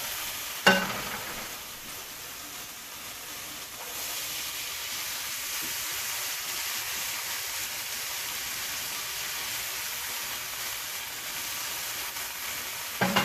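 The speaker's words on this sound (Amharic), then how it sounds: "ቀይ ሽንኩርታችንን እናበስላለን።" Onions and garlic fry in a hot pan with a steady, even sizzle and hiss that carries on without pause, close by, opening with a sharp clink and with no voices.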